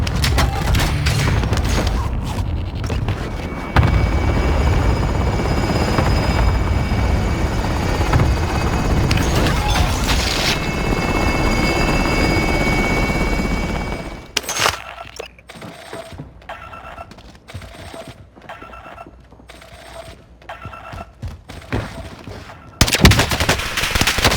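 Helicopter rotor drone in a video game set in Caldera, loud and continuous for about fourteen seconds, then giving way to bursts of gunfire and booms that stop and start, with the rotor fading under them.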